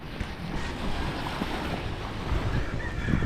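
Waves washing onto a seashore with steady wind across the microphone, a continuous broadband rush that swells slightly louder toward the end, with no speech.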